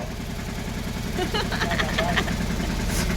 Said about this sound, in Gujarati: હાલો ટ્રેક્ટર વહી ગયું રેડી